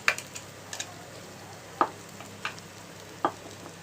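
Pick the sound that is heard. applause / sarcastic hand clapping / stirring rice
stirring rice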